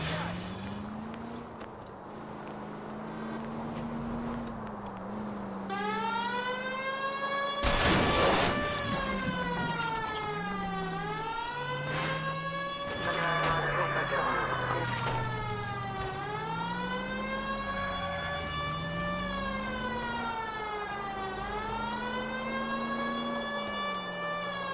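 A police car siren wails in the video game L.A. Noire, rising and falling in long repeated sweeps, loud and close, with sharp crash bursts cutting in several times as the car drives.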